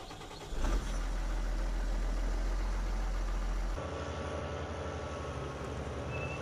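Engine of a New Holland tractor in Farming Simulator 19, a steady low rumble that rises after a brief start, then shifts to a slightly lighter running tone partway through, continuous and close with no talk.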